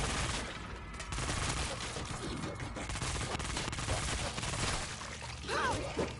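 Fully automatic gunfire roars continuously in the World War Z video game, a dense, loud stream of shots with no clear gaps.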